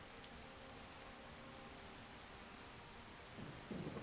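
Steady rain and rolling thunderstorm rumble in the video game Skyrim, a continuous hiss of rainfall with a low swell of thunder near the end, faint and without talk.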